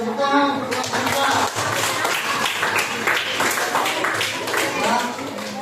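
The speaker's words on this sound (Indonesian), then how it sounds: "Tepuk tangan untuk kelompok" Classmates applaud group 4 in a classroom, a dense burst of clapping from many hands that carries on steadily, with children's voices mixed in.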